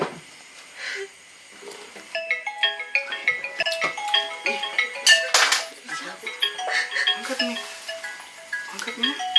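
A mobile phone ringtone plays a bright, repeating melody of beeping tones for several seconds, with people speaking around it in an Indonesian-language drama set in Makassar.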